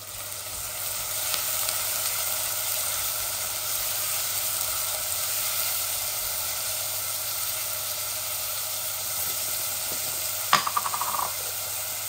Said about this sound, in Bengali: আর এই যে মিটগুলা এত বেশিও না, এত কমও না, এগুলা ভুনা ভুনা মতো করবো।